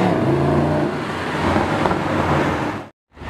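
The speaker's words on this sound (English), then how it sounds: "Brabus G-Wagon on FI exhaust." Brabus G-Wagon fitted with an FI exhaust revs loudly nearby, a deep sustained engine roar for about three seconds that cuts off abruptly before starting again.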